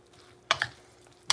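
Salad being tossed with about two tablespoons of dressing: a few quick, soft wet stirring and clattering strokes, close and fairly quiet, with no voices.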